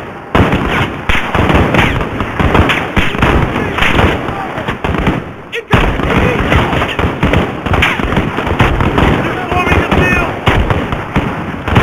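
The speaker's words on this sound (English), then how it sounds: "Sergeant, fire a flare from the launcher on the roof." Loud, dense gunfire and explosive bursts in a Call of Duty Modern Warfare campaign battle, around a flare fired from a rooftop launcher, with shouting voices mixed in throughout and one brief dip in the middle.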